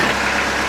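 A homemade tractor engine runs at a steady idle, a loud, close, even rumble with no break through the short stretch.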